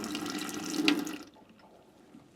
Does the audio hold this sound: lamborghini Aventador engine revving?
no